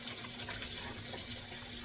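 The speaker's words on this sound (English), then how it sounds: "First, we turn on the faucet. We're running through running water" Tap water runs steadily from a kitchen faucet over a zucchini being rinsed, a quiet continuous splashing stream with no voices over it.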